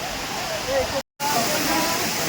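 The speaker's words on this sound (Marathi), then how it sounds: "काय धबधबा आहे. वॉटरफॉल एक नंबर." A waterfall in Tamhini Ghat pours in a constant rushing roar, cut off by a brief moment of silence partway through.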